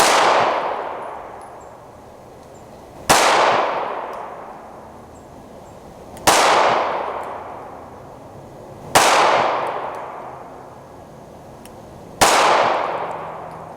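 An HK P7 PSP 9mm pistol fires five loud single shots at a 10-yard target, spaced about three seconds apart, each a sharp crack followed by a long ringing decay, with no one speaking.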